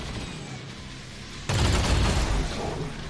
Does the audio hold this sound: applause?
no